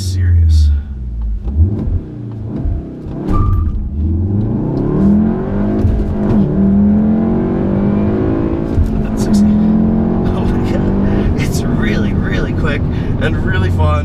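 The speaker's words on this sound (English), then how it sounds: "I mean, listen to this engine." A 2017 VW Golf R with a 6-speed manual pulls hard under acceleration, its engine rising and falling through several rev sweeps in a steady loud roar, with someone talking over it throughout.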